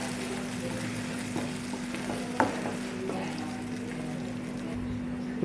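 A spoon stirs urad dal into fried green-chilli masala in a pan, giving a steady soft scraping and sizzle with one sharp clink partway through, close and fairly quiet.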